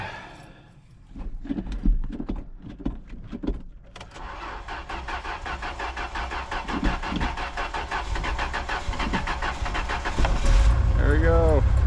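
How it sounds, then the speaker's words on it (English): A 1967 Toyota Stout truck engine cold-starts: after some handling noises, the starter cranks briefly and the engine catches into a loud, steady idle close by. "cold start"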